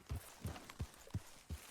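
Horse hooves clip-clopping at a steady walk in the Red Dead Redemption video game, five evenly spaced dull thuds, close and moderately quiet with no talk.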